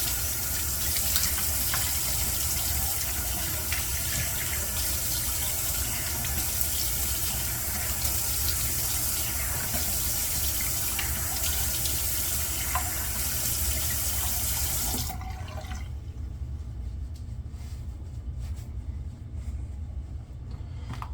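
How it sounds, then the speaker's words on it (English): Running tap water pours steadily and loudly into a sink while a razor is rinsed during a shave, then drops off partway through and settles to a quieter trickle. "Let me rinse real quick and then we'll lather back up."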